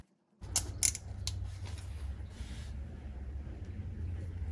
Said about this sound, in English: Go ahead and loosen and remove both the 7/16 nut and washer.